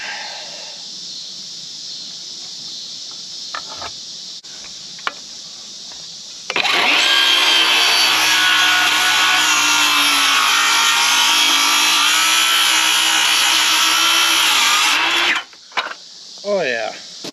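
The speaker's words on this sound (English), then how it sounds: "That Sawzall blade is done for, so I'm just gonna see if I can get lucky and meet them" A Sawzall reciprocating saw with a worn blade cuts wood for a kayak rack, a loud, harsh buzzing burst of about nine seconds between quieter handling noises and talk before and after.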